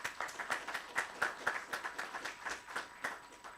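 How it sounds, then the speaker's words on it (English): A fairly faint round of hand clapping, with quick, steady claps repeating for a few seconds and no voices. "So let me clap, and I advise you to clap."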